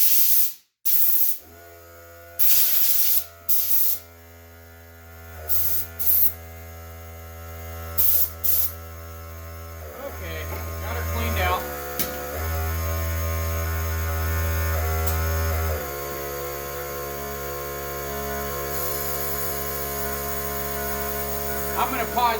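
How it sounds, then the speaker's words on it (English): Air compressor in a home garage running as it pumps back up, a steady droning motor hum with strong tonal harmonics that changes pitch in steps, broken by short bursts of noise early on. "the compressor's done pumping back up again"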